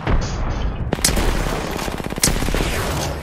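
Repeated gunfire from an Apex Legends match, with sharp broadband shots cracking in quick bursts around one and two seconds, over constant loud game noise and rumble.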